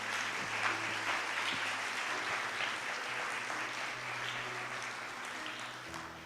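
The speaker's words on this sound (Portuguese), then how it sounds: "Alguém pode dar uma salva de palmas para esse Jesus?" Sustained applause from an audience, a steady wash of clapping that fades slightly toward the end, with a low tone humming underneath.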